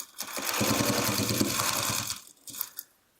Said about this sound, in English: So I am going to put a pin here and go this way, so I can just sew this together.